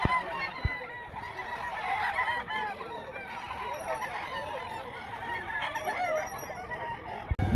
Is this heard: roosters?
yes